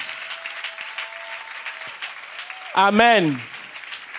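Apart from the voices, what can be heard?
congregation applauding to acclaim the Lord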